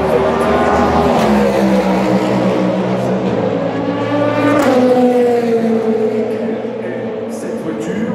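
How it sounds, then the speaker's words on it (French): A Team Inter Europol Oreca prototype race car at the Le Mans 24 Hours, a loud high-revving engine scream with gear-change pitch shifts as it passes near, under French commentary. "Sur le circuit, on y a une Oreca du Team Inter Europol"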